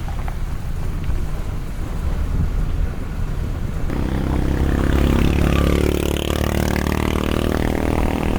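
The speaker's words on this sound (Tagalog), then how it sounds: "Sobrang lakas na ng ulan dito." Heavy rain at a campsite on a farm in Tanay, Rizal, a broad steady wash of noise that grows louder and denser partway through, with rumbling wind or vehicle noise underneath.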